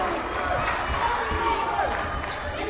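Crowd at a college basketball game between Washington College and Muhlenberg cheering in a gym, a loud sustained roar with shouts and squeaks, steady throughout the short stretch.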